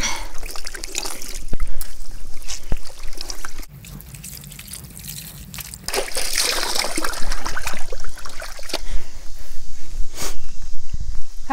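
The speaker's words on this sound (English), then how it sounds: "and we're going to wring it out." Hand-washed laundry being wrung out, with water splashing, trickling and dripping into a basin in uneven close bursts, including a quieter stretch midway.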